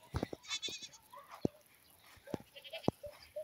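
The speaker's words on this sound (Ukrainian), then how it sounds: "Вон, сусідчини кози макають." Goats in a neighbouring village yard bleat several times in short, bright bursts at moderate distance, scattered among quiet outdoor countryside background.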